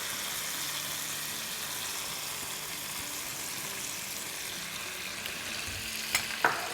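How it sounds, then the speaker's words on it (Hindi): Paye (trotters) with stirred-in yogurt fry in a pot, a dense continuous sizzle with a couple of brief spoon scrapes near the end, close by and without talk. "दही को अच्छे से मिक्स कर लेंगे।"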